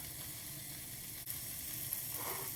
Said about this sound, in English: You can hear it start to griddle away.